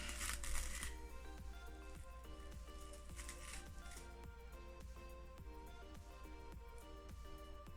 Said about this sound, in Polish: Nakładam folię.